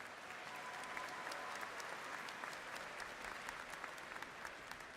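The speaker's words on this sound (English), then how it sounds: "A big round of applause for them as well." Audience at a university spring commencement applauding the band, a faint, distant, continuous patter of many hands with scattered sharper claps, steady for the whole stretch.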